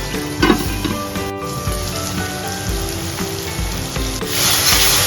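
Chopped tomatoes fry in a covered pan over a high gas flame while a paneer butter masala cooks. A loud, close, continuous sizzle crackles throughout, with a few clinks and stirring sounds.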